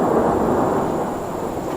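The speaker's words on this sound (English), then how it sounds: "to the north, there's a storm gathering." Thunder from a storm gathering to the north over Bukit Timah Nature Reserve makes a loud, continuous low rumble that carries steadily throughout with no voices.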